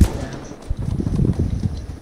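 A C4 charge detonating in the survival game Rust, a loud burst at the start followed by a rumbling roar and scattered crackling impacts that linger for about two seconds.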